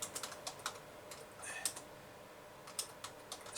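Keys clatter on a computer keyboard as a short message is typed, irregular bursts of light clicks with brief pauses, close and fairly quiet over faint room noise.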